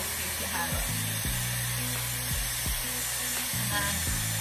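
A Dyson Airwrap hair styler drying the ends of hair blows a steady airy hiss with a constant whine, loud and close throughout, shifting slightly in pitch as it moves up and down.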